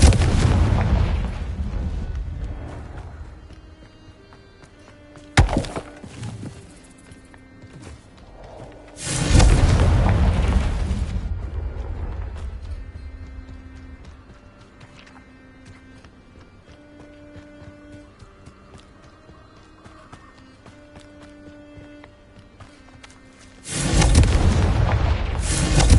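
Confringo blasting spells in the video game Hogwarts Legacy set off loud, booming explosions: a sharp crack, then two heavy blasts with rumbling tails separated by quieter background music, with no talking.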